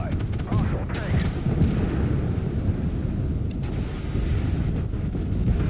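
Armored vehicle combat in Armored Warfare sounds dense and loud, with a sustained rumble of heavy gunfire and explosions where sharp sniper-like cracks blend into the constant battle noise.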